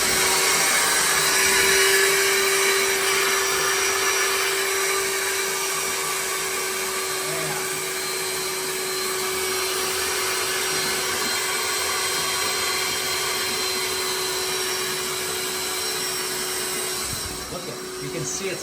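A wet vacuum sucks water out of a household drain, a loud, steady whine and roar that runs almost unbroken before cutting off near the end.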